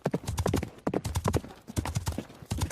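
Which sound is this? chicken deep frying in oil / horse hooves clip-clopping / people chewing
horse hooves clip-clopping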